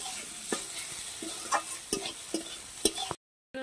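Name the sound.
potato and onion frying in a pan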